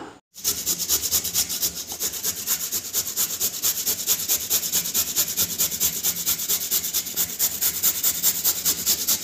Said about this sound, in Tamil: கேரட்டை வந்து இந்த மாதிரி சூப்பராக வந்து குட்டி குட்டியாக வந்து துருவி எடுத்தாச்சு